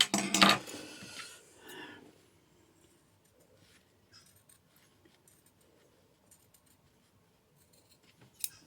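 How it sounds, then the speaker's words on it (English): A few quick snips of scissors cutting through fabric for a face mask up close at the start, then faint rustling and occasional light clicks in a quiet room. "trim up to the sewing. Don't sew cut through it. These are the wrong scissors."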